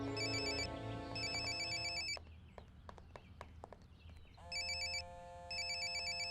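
A phone ringtone for an incoming call: an electronic melodic ring that plays twice, breaks off for a couple of seconds of quieter background clicks, then resumes and repeats, fairly faint overall.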